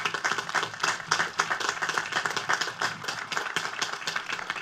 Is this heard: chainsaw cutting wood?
no